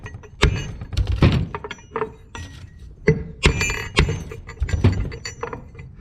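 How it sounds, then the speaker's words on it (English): A Polaris RZR 1000 transmission is turned on its side and struck repeatedly, giving a series of sharp metallic thunks and clinks in an irregular rhythm, close and fairly loud. "Let me flip it over on its side and smack it."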